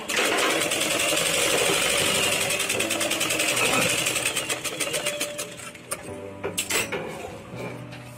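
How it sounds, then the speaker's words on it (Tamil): A sewing machine stitches lining fabric along a garment neckline with a loud, fast, continuous whirring run that slows into separate clacking stitches and brief stops toward the end, heard up close without talk. "வச்சு ரெண்டையும் வச்சு அமுக்கு தையல் ஒண்ணு போட்டுருவோம்"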